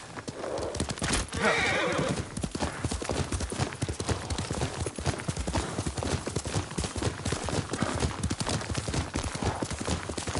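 Hooves clip-clop steadily at close range while a horse whinnies loudly near the start in the video game Ghost of Tsushima, with a busy background throughout.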